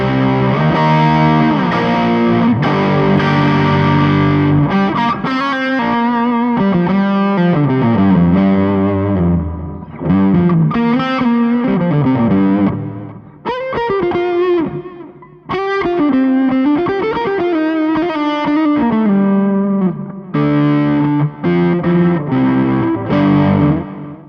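An electric guitar runs through a B.K Butler Tube Driver overdrive pedal with boosted lows and cut highs, playing loud, thick distorted riffs and chords with brief pauses, no talking.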